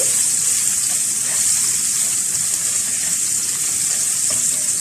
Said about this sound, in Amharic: ዘይቱ ሞቅ ሲል ነጭ ሽንኩርት ጨመርኩ ማለት ነው።